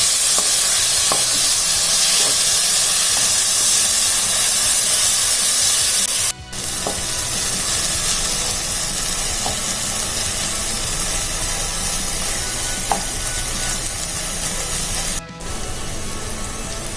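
Steady loud sizzling and hiss of tomatoes and onions sautéing in a pan, with occasional faint clinks of stirring and two brief breaks in the sound.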